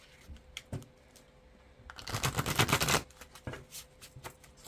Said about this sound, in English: if I can shuffle it right, it has some great messages